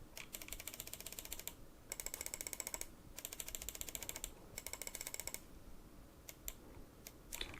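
Rapid clicks of Marvo G961 gaming mouse buttons in quick bursts, close and crisp, with short pauses between runs of clicks and a few isolated clicks near the end.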